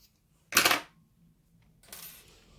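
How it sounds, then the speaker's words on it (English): Scissors snip through crochet yarn on a small amigurumi burger, two short crisp cuts close by, separated by near silence. "and we'll snip it off."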